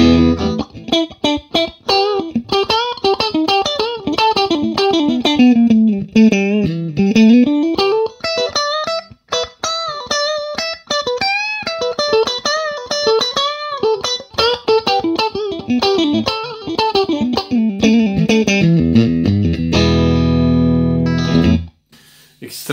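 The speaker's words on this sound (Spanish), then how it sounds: "prefiero hacerlo bien natural para que ustedes puedan escuchar el tono de la guitarra" A Fender Stratocaster American Original 60s electric guitar played dry with no reverb, a continuous run of close, clear picked notes and melodic lines ending in a sustained chord.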